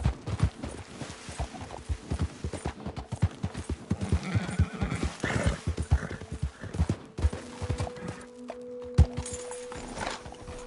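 Horse hooves clip-clopping in a steady walking rhythm in a PS4 video game, with a whinny partway through and a sustained tone near the end, moderately close and unaccompanied by talk.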